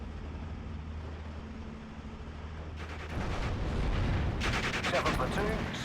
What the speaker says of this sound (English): howitzers need to start firing away